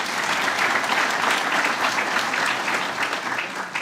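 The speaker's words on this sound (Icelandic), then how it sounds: "við skulum gefa henni gott klapp" Applause rises from an audience at an agricultural university graduation ceremony in Iceland, a dense, even wash of many hands clapping at close range that holds steady throughout.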